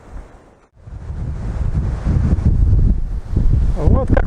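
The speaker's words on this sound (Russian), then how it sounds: "Вот такие вот порывы ветра вот. Мощнейшие." Powerful storm-force gusts, strong enough to break an apple tree, roar and rumble against the microphone, swelling after a brief lull, with a short voice at the very end.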